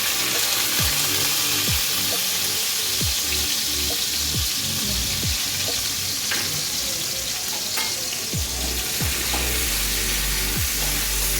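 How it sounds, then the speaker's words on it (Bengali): Chopped ginger, garlic and chili fry in hot oil with a loud, steady sizzle, broken by repeated short scrapes of a spatula against the pan. "আমি এই তেলের মধ্যে আমি কুচো আদা রসুন লঙ্কা দিয়ে দিচ্ছি।"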